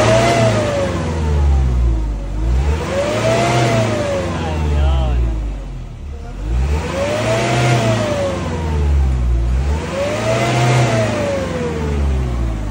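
An Isuzu Elf truck's 4HL1 diesel engine, being checked for low power, runs loud and close, repeatedly revving up and settling back in slow, even surges about every three seconds.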